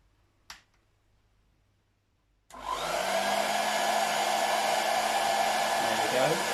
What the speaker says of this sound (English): I might need to raise the hairdryer.